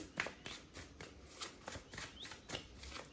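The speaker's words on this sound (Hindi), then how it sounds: "well, we need 1 card not 2, तो हम फिर से शफल करेंगे" Tarot cards shuffled by hand in a quick series of soft riffling snaps and flutters, about ten rapid bursts at close range, quiet and alone.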